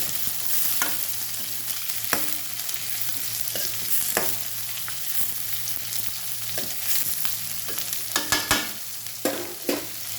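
Amaranth greens with green chillies sautéing in a pan, a constant close sizzle broken by scraping stirs and spoon clinks that grow more frequent toward the end, with no talking.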